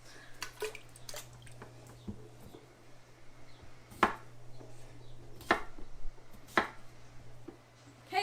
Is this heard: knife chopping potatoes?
yes